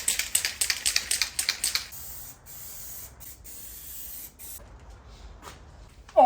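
Aerosol can of Duramax Satin Black paint spraying car parts in a quick series of short hisses, followed by a few longer, fainter bursts.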